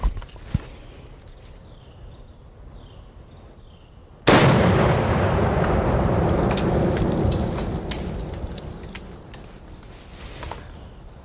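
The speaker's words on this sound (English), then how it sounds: "It's sitting on 1 pound of explosives, and I'm going to set them off with my PWS 308 AR." A PWS .308 AR rifle shot sets off one pound of explosives: a sudden massive outdoor blast that rumbles and rolls away over several seconds, with debris pattering afterward.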